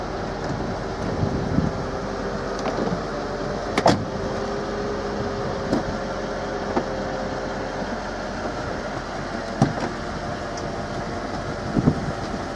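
A steady mechanical hum runs throughout as the convertible roof of a 2003 Mercedes SL 500 closes, with occasional clicks and thuds from moving parts; no voices.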